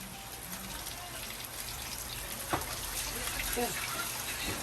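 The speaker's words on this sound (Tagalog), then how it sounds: "Hugasan ko lang. Wow, tubig!" Water runs from a tap in a steady, rushing stream, with faint clinks and brief movement sounds in the background.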